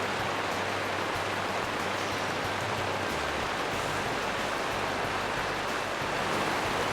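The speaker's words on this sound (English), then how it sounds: "Now we're getting hail." Hail hammering a wall tent during a Montana spring bear hunt, a dense, loud, unbroken hiss of pelting ice with no voices.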